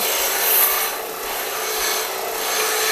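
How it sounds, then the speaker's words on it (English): The disc of a combination sander grinds down a piece of wood, a steady close abrasive rasping hiss with slight swells in intensity. "we're back at the belt sander here, or combination sander actually, and we're going to use the disc, and we're going to work this down"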